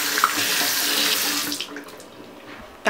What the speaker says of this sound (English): now we have to wash our hands